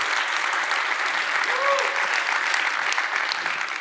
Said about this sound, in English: a round of applause for Software Mention